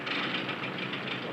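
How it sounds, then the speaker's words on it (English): Airplane engine running rough with engine trouble during a 1940s flight, a steady loud droning roar with a slight rhythmic pulsing, continuous and close throughout with no talk. "Engine trouble, sir. We'll have to go back to the field."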